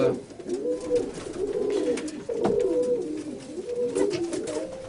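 Serbian High Flyer pigeons coo inside the flying birds' compartment of a wood-shavings coop, a steady overlapping chorus of soft, close, rolling coos that runs throughout.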